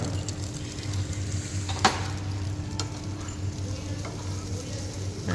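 Steady low sizzle of food frying in a pan after being flipped and topped with cheese, a continuous hiss with a faint low hum and a couple of small clicks, no voices.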